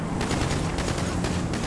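Rapid gunfire in the video game GTA V: several loud, close bursts crack in quick succession, packed tightly into a continuous volley with no talk over it.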